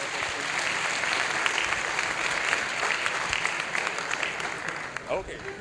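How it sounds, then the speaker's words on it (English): Conference attendees at a talk on decentralized social media give a round of applause, a continuous wash of clapping at moderate volume with a few voices mixed in. "give whoever did this a round of applause"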